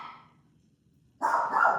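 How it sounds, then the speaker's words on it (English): Dogs in a house bark during a quiet yoga session: a faint trailing sound at the start, near silence, then a loud burst of barking that continues to the end. "I hope you can't hear my dogs, but it's a perfect timing for them to bark"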